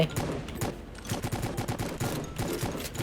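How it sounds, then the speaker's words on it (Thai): Rapid bursts of gunfire from a gun shooting zombies in the game Zombie Merge Tycoon, a steady run of close, punchy shots in quick rhythm with no talking. "เราสามารถใช้ปืนในการยิงซอมบี้ได้ เรายิงเพื่อนได้ด้วย"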